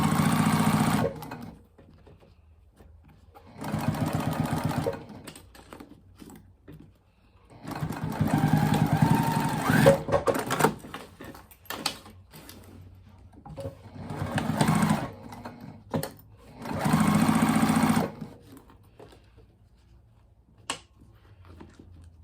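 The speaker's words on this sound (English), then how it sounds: "we're just going to go stitch across the top here just like we did on the other side" A sewing machine stitches across the top of a fabric retreat bag in five separate bursts of steady whirring, close and fairly loud, with quiet pauses between runs.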